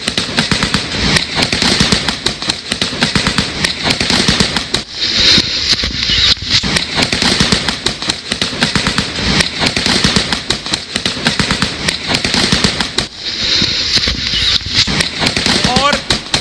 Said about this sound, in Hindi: बाकायदा जवानों ने मोर्चा लिया और उसके बाद फायरिंग शुरू हुई।